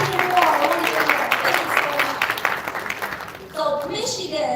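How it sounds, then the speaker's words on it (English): An audience at a Detroit China Day gathering applauds with dense clapping, a voice speaking over it before the clapping thins out and talk resumes near the end. "Give them a round of applause again."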